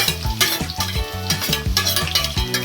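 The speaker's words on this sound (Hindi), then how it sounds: "प्याज को थोड़ा हल्का कलर चेंज होने तक फ्राई करते रहेंगे इसको।" Chopped onion frying in hot refined oil with a busy, crackling sizzle and frequent stirring scrapes, loud and close, with steady tuneful background music over the cooking.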